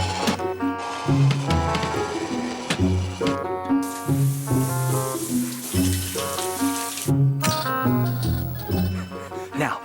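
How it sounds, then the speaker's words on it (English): Shower water running in a cartoon, a steady broadband hiss that starts partway through, cuts out briefly, then resumes under continuous music, with no talking. "start my shower"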